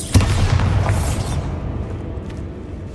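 The Bombarda blasting spell in Hogwarts Legacy goes off in a single sharp, booming burst against a barricaded archway, then rumbles and fades away.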